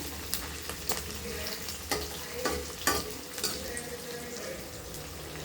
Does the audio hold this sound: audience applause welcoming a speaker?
no